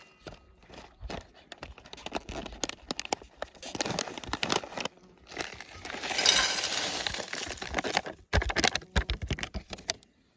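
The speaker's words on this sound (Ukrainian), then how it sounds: "Відкриваємо та дивимося, як вона виглядає в сухому виді." A package of Fest Food freeze-dried food with dried vegetables, mushrooms and noodles is opened with crinkling, rustling and tearing of the packet, close and moderately loud, with scattered clicks and a brief voice.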